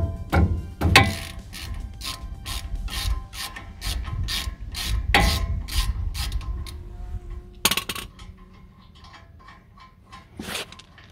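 Ratchet wrench loosening brake caliper bolts during a wheel bearing repair, heard up close as rapid bursts of sharp metallic clicks in irregular runs, with pauses between strokes and no talk.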